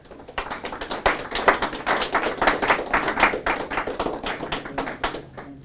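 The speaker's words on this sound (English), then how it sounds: "So give a round of applause and enjoy the talk." Applause from a small audience at a book launch talk about European cafes, sparse individual claps building into a steady patter, then thinning toward the end, fairly close.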